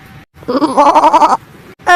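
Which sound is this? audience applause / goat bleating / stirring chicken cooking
goat bleating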